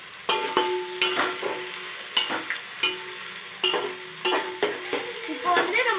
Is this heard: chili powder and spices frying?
yes